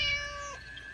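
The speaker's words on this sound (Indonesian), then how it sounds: "Oh, ternyata cuma kucing." A single clear cat meow in an animated cartoon, bright and tonal, fading out after about half a second against a quiet background.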